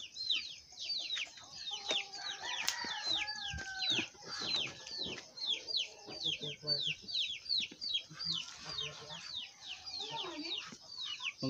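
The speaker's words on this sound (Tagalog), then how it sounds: "Ang daming alagang manok dito guys." Flock of domestic chickens, with ducks nearby, on a farm, clucking and chattering continuously with many overlapping short calls at moderate distance.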